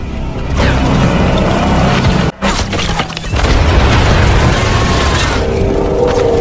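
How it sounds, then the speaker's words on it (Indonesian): A loud movie explosion from a remote-detonated bomb booms through the scene, with heavy crashing debris and rumble that briefly cuts out and then surges again. "mencoba meraih remote pengontrol bom dan akan meledakkannya"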